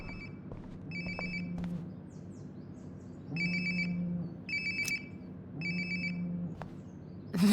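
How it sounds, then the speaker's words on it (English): In Life is Strange: Before the Storm, a phone rings repeatedly nearby, electronic trilling bursts in a regular on-off pattern over a low background hum. "Sounds like my phone is definitely nearby."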